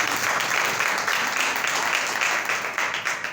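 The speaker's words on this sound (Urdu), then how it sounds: "زوردار تالیاں" Loud, sustained applause from a church congregation during a sermon, dense clapping filling the room steadily for a few seconds without a break.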